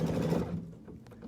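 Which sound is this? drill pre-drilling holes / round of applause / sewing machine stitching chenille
sewing machine stitching chenille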